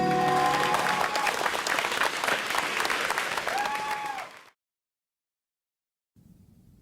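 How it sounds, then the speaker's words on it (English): An audience applauds loudly and continuously for about four and a half seconds with some cheering, then the clapping stops abruptly, followed by silence and faint background noise. "Ladies and gentlemen, a round of applause"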